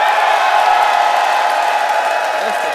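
A crowd at a GroenLinks/PvdA election results night for the provincial elections cheers and whoops in a loud, sustained roar that fills the whole moment.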